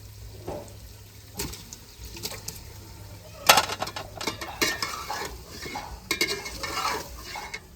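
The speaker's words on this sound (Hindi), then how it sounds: "इसमें चिकन भी ऐड कर लिया है। इसे अच्छे तरीके से फ्राई करते हैं" Chicken pieces fry in a pan of browned masala while being stirred, giving metal scrapes and clatters, a sharp louder stroke near the middle, and a soft sizzle underneath.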